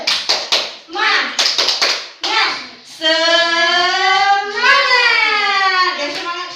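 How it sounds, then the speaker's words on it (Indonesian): A fifth-grade class claps the rhythmic 'tepuk semangat' pattern, sharp grouped hand claps in a quick beat, followed by children chanting loudly together in unison. "Sekali lagi ya, tepuk semangat."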